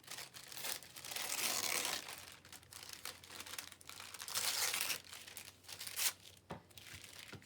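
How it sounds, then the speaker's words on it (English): Paper crinkled close by while decorating masterboard tags or journal cards, a loud, continuous crackling that swells and eases in waves, with sharper crisp bursts near the end and no voices. "I'm gonna crinkle some paper."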